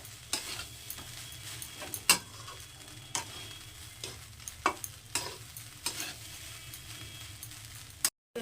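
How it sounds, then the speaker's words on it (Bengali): Egg chicken fried rice stirred and frying in a pan on a gas stove over medium heat, a steady sizzle broken by regular scraping and clinking of the spatula, close and alone without talk. "একটু ভালো করে ভেজে নিয়েছি আর মিশিয়েও নিয়েছি খুব সুন্দর করে"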